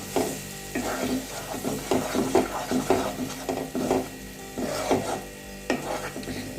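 A spoon stirs and scrapes a sautéing masala of curd and gram flour in a hot pan, with repeated rhythmic scraping strokes over a soft sizzle, close and clear, no talking.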